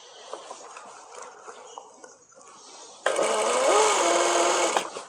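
A sewing machine stitches a shalwar pocket, starting abruptly partway through and running as a loud, steady whirr for about two seconds before stopping, with quieter workshop noise before it.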